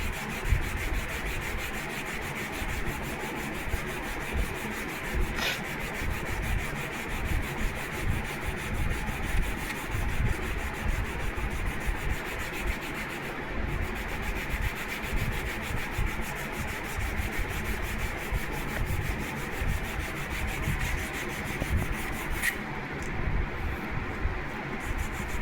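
Steady, close rubbing of a sanding block worked along a balsa wood model jet wing, with fast, even strokes that continue without a break throughout and no voices.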